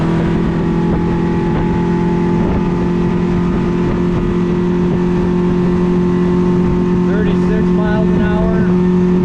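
A 2021 Stabicraft 1550 motorboat cruises across the water, its outboard holding a loud, steady drone throughout, with wind buffeting the microphone and brief voices near the end.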